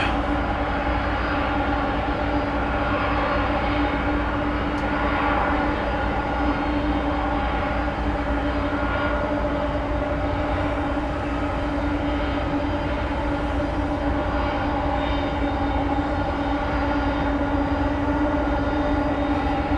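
A tri-jet airliner at DFW Airport at night produces a loud, continuous jet engine roar and broadband rumble that holds steady throughout, heard from nearby on the ground with no talking.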